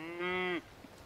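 A single cow on a farm lets out one clear, sustained moo lasting about half a second, close by and fairly loud, followed by quiet outdoor background.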